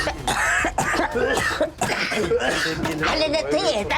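Several people cough repeatedly from husk powder while pounding grain in a village, harsh throaty coughs coming in close, loud bursts mixed with bits of voice.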